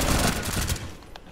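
A gunshot rings out during a close-quarters fight in Rainbow Six Siege, a loud burst of sharp reports fading into quieter echoing cracks within a second and a half.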